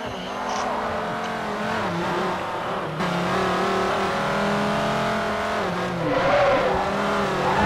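A touring car in Forza 4 on the Nurburgring GP circuit roars at high revs with shifting engine pitch and a tire lock-up skid, loud and continuous, with no talking.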